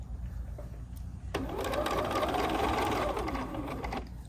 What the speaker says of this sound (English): so we're gonna sew all the way down this edge